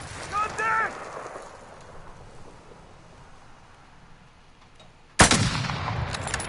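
A sharp, loud gunshot crack in Call of Duty Warzone cuts in after a stretch of low background noise, followed by sustained rattling noise, with a brief voice near the start.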